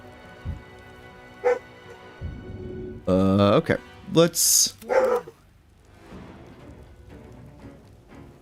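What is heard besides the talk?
dog barking in video game Baldur's Gate 3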